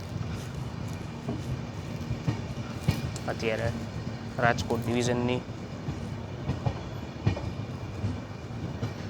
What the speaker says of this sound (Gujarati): અહીંયા ભાઈ મુંબઈ સેન્ટ્રલ હાપા દુરંતો એક્સપ્રેસ ભાઈ મોસ્ટ પ્રાયોરિટી ટ્રેન